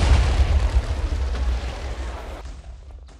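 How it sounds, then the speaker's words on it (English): A huge explosion in the video game Minecraft, set off while destroying a village: a loud, sustained rumbling blast with heavy low-end boom, fading and thinning out toward the end, with no voices. "There was just a huge explosion."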